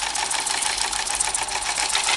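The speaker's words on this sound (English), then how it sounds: "which hopefully will go fairly smoothly through the sewing machine" A sewing machine stitches an upcycled canvas groundsheet for a Polish lavvu tent, a steady rapid whirring chatter running continuously at a constant pace, close and fairly loud with no talking.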